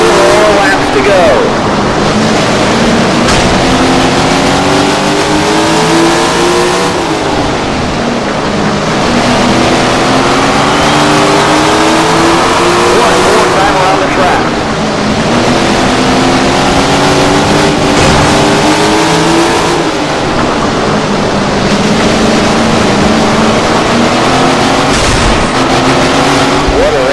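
Engines of 410 sprint cars roar in the Tony Stewart Sprint Car Racing video game, loud and continuous, rising and falling in repeated revving sweeps as the cars lap, with a voice speaking over parts of it.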